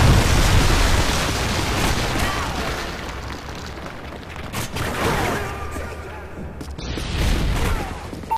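Predator missile strike in Call of Duty Modern Warfare 3 multiplayer: a loud, rumbling explosion that rolls out amid bursts of gunfire and further booms, with battlefield noise throughout.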